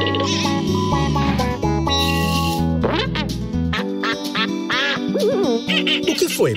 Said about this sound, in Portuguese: Olha! É o pato.